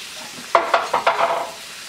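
Shrimp cook in a pan with a soft sizzle, broken by four or five quick, distinct scraping stirs in close succession, near and moderately loud, with no talk.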